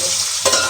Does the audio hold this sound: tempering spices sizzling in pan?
yes